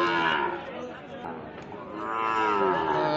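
A Sahiwal bull lows at a cattle market in a long, loud, wavering moo amid crowd chatter.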